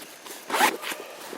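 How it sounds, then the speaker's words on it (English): A zipper on a bag holding a Trangia stove set is pulled shut in one quick rasping stroke, close and fairly loud, with a few faint rustles around it. "I guess it zipped that time"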